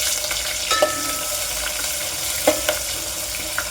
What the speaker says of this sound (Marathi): तर लगेचच आपल्याला यामध्ये कांदा देखील टाकून परतून घ्यायचा तर इकडं कांदा परततोय